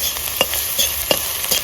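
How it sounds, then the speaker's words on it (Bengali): An egg fries and is stirred in a pan for a rustic village-style dish, giving a steady sizzle broken by a few soft scraping stirs, close and without voices. "বন্ধুরা ডিমটা আমার ভাজা হয়ে গেছে,"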